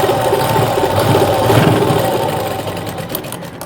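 Domestic sewing machine running steadily while stitching a blouse shoulder seam, a continuous close mechanical whir with a faint rhythmic knock, easing slightly toward the end with no talk.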